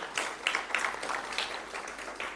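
A conference audience at a forum seminar gives a short round of applause for a speaker, a burst of scattered hand claps heard at moderate distance over a soft room hum.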